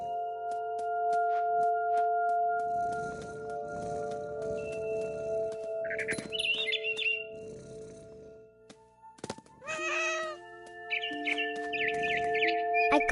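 Birdsong from a mother bird in a tree in the video game What Remains of Edith Finch: scattered chirps and short clucking calls over steady tonal game ambience, with no talking.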